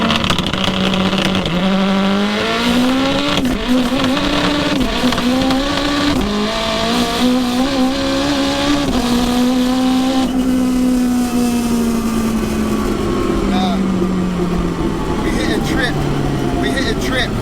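Race car engine held near full throttle, its pitch stumbling and dipping as traction control repeatedly cuts power, loud and continuous throughout while someone talks over it.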